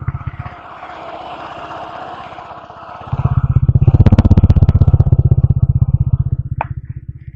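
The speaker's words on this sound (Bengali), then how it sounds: "আর এখন ইঞ্জিনের সাউন্ড একটু আপনাদের শোনাবো।" Suzuki Gixxer FI disc-brake motorcycle engine idling close by with a steady low thrum, then revving up louder around the midpoint and holding a rougher, stronger beat, with a brief high click near the end.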